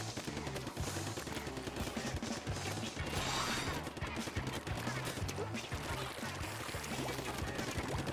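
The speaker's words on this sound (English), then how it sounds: "That's missiles." Missiles firing in the video game Splatoon 2, heard as a long, dense barrage of rapid pops and bursts rattling continuously at moderate, steady loudness.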